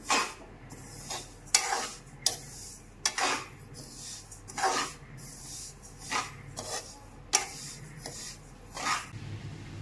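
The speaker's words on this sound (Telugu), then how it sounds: "కళాయి వేడెక్కాక నువ్వులు వేసి దోరగా వేయించుకోవాలి" Half a kilo of sesame seeds roasts in a hot kadai, stirred with repeated rhythmic scraping strokes against the pan over a faint sizzle, close and fairly quiet.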